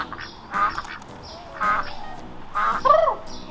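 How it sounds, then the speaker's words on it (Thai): A duck quacks in three loud, nasal bursts spaced about a second apart, close by and clear, with faint background noise between calls. "เฮ้ยเสียงเป็ดปะ"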